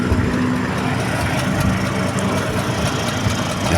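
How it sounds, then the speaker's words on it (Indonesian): A Vespa Sprint scooter's restored engine idles after warming up, giving a steady, close, even rumble throughout, with no one talking. "Alhamdulillah ini suara mesinnya masih adem ya, nggak ada masalah ya."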